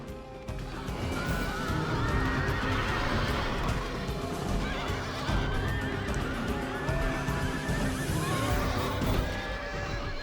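Horses whinny and neigh loudly and repeatedly in the din of a siege battle in the video game Rome Total War, their shrill, wavering cries overlapping amid the continuous clash and rumble of combat.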